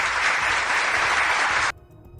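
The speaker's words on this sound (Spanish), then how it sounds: "déjame darle un super aplauso por aquí a Prometeo" A burst of dense clapping and applause, loud and steady, cutting off abruptly after about a second and a half.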